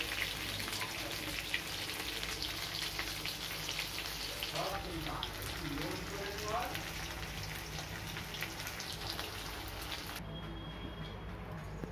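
Spice-coated chicken pieces fry for chilli chicken, giving a dense, steady crackling sizzle that runs unbroken and fairly loud from start to finish.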